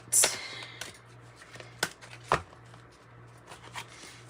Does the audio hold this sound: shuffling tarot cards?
yes